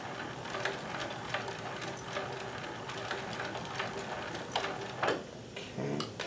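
Singer 72W19 hemstitching sewing machine running in short bursts, a quiet, close mechanical rattle and ticking with brief pauses and no talking.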